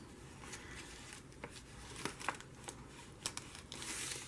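A small glassine bag crinkling faintly and close by, with scattered short crackles and rustles over a quiet background.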